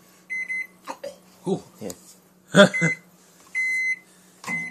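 Microwave oven running with a low steady hum and a series of repeated high beeps, heard close, while people talk briefly over it.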